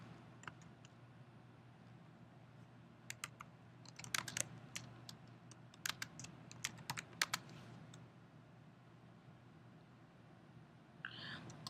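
Scattered keystrokes on a computer keyboard while entering an accounts receivable record, quiet irregular taps coming in small clusters with pauses between, in a faint room with low background hum.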